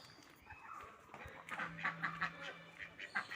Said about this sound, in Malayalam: ഇത് കുറച്ച് താറാവ്